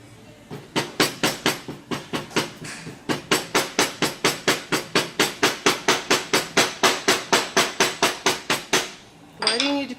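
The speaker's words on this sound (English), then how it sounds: "Once again, the hammer." A hammer packs sand tightly around a ring in a sand-casting mould, dozens of sharp, evenly paced knocks in a long steady run, close and loud, stopping with a brief scrape.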